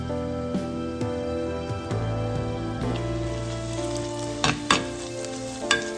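Onions sautéing in a pan for a Kerala-style chicken dum biryani, a steady sizzle under tonal background music, with a few sharp stirring scrapes and knocks near the end.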